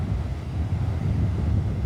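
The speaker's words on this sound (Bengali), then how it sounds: "সমুদ্রের ঢেউ যে প্রতিনিয়ত সমুদ্রে তৈরি হয়ে আবার সমুদ্রের তীরে আশ্রে করছে" Wind and sea waves on Kuakata beach, a steady, loud low roar with strong wind buffeting the microphone throughout and no distinct wave breaks standing out.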